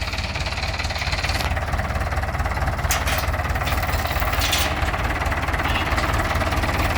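The engine of a Ford grab crane truck runs steadily during a test near Buriram, a continuous knocking diesel-like rumble at close range with no pauses.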